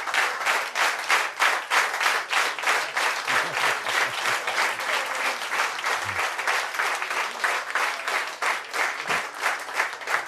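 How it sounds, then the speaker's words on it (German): A studio audience claps continuously in a dense, even burst of applause that stays loud and steady throughout, with no voices over it. "sage ich euch ganz herzlich Danke für den Applaus"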